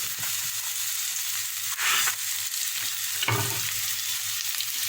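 Rice sizzles and fries in a pan with translucent onions and aromatics, a steady close crackle broken by a couple of louder scraping stirs, with no voices.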